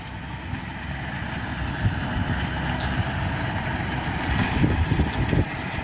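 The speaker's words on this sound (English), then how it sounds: "So we've got the tractor coming up here." A tractor towing a harrow on a farm nature reserve during hay strewing, its diesel engine a rough, chugging low rumble that grows slightly louder as it approaches, with no talk heard.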